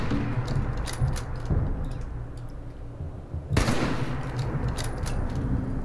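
Hunting rifle shots in the video game Fallout 76 sound over steady game background noise. A few sharp, clicky reports come near, with one loud bang near the middle.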